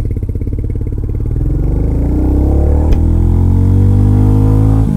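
A Royal Enfield Goan Classic 350 motorcycle accelerates in first gear, its single-cylinder thump rising steadily in pitch as the engine revs up, loud and close with no talk.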